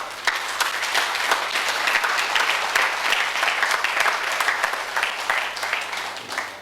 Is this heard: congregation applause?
yes